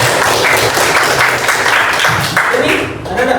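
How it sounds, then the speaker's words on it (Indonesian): A classroom of students claps together during a Quran-reading lesson, a loud, close patter of many hands mixed with voices talking over it. "tepuk tangan dulu"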